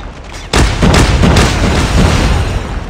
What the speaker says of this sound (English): Friendly Shock RC has been destroyed.